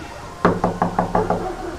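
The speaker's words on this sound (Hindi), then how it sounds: "अचानक आधी रात उसके दरवाजे पर जोरों से किसी ने नॉक किया" Six loud, sharp knocks on a door at midnight in an animated horror story come in quick, even succession, close and clear with no voices.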